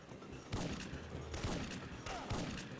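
Shotgun fire in the video game Syphon Filter 2 during a train sequence, three heavy booming blasts spaced under a second apart over a constant rumbling game background.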